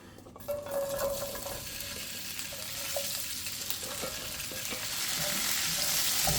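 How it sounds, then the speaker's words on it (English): Green beans sautéing in a pan, a steady close sizzle and crackle that holds throughout, with faint stirring and pan sounds and no talk. "I'm going to saute the green beans in it"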